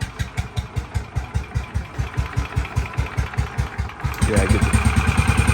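A motorcycle engine fires up after being kick-started, settling into a loud, close, steady idle with rapid regular putters that swell and thicken near the end; brief speech is heard over it.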